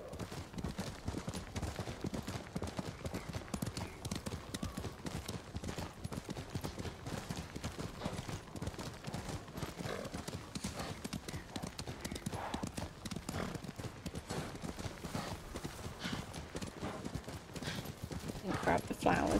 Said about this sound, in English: I still don't like this horse.